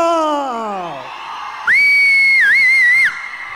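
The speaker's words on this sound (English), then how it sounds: "Are koi zor se siti bajao!" A single loud, sustained whistle rises out of a noisy crowd at the Gardenia 2019 event, holding steady for over a second with a brief dip midway, after a voice trails off.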